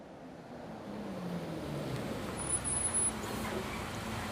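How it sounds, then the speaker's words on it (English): A bus engine rumbles steadily as the vehicle pulls over in the Everlasting Summer visual novel game, a low continuous drone with a slight swell midway, heard alone without any talk. "The sound of an engine brought me back to reality. A bus pulled over."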